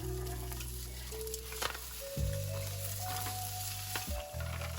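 Tofu cubes and shallots fry in olive oil in a skillet over medium heat, a steady close sizzle with a few scraping stir knocks and a low hum underneath.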